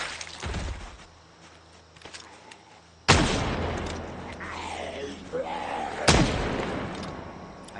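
Gunfire in the zombie survival game Project Zomboid: two loud, sharp gunshots about three seconds apart, each with a long echoing decay, over quieter footsteps and background ambience.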